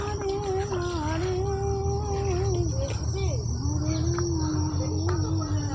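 Dense forest jungle ambience: a loud, continuous chorus of crickets and other insects fills the air, with bird chirps and calls rising and falling over it throughout.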